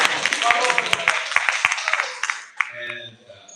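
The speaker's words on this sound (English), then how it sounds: "That is an applause line." Audience applause at a live forum in Eureka, California, a brief burst of clapping from a room full of people that fades within about two seconds, followed by a speaker's voice.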